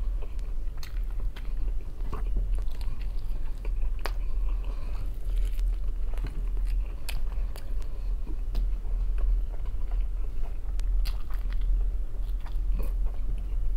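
Turkey leg being eaten up close during a mukbang, with steady bites and wet chewing that keep going for the whole stretch, joined by soft crunches and small ticking mouth sounds.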